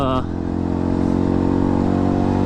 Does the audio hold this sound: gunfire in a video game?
no